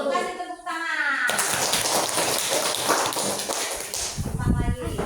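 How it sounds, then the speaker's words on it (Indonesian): A burst of hand clapping from children in a classroom during a lesson, fairly loud and close and lasting several seconds, with voices before and after it. "Kasih tepuk tangan."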